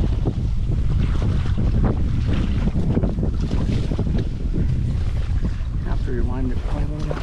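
Strong wind buffeting the microphone throughout a duck hunt outdoors near water, a loud, constant roar with no break.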